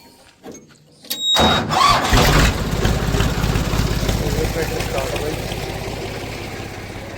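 A brief clatter, then a tractor engine cranks and catches, settling into a loud, steady diesel rumble that idles on without stopping.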